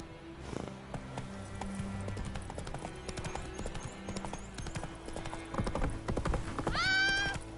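Horse hooves clip-clop at a steady trotting rhythm along a road in The Witcher 3 video game, close and continuous under background music, with a horse whinny near the end.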